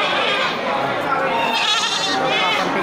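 Female goats bleating at a busy livestock market in Bireuen, with repeated wavering bleats over constant crowd noise and nearby chatter.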